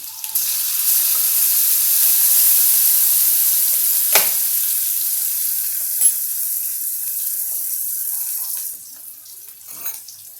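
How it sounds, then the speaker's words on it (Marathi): Onion and tomato with asafoetida fry in a pan, giving a loud continuous sizzle with a sharp stir or scrape near the middle, easing off toward the end; no speech. "थोडंसं परतून घेऊया थोडंसं लालसर करूया"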